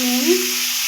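Potatoes and flat beans fry in a pan, giving an even, close sizzle with a faint tonal hum. The burst is brief and steady, with no voices.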